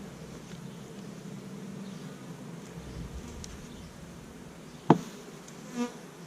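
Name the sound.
honeybees buzzing in a hive during colony inspection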